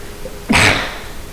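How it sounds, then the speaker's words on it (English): A single sharp sneeze bursts out close by in a quiet room, then fades quickly. "I always sneeze twice."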